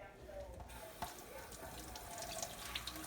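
Tap water runs steadily into a sink as a cleaned catfish is rinsed, a faint close splash with small knocks and drips.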